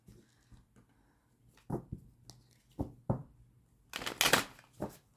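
Tarot cards shuffled by hand: a handful of soft taps and riffles, then a dense, crisp flurry of shuffling near the end, close and fairly quiet in a still room.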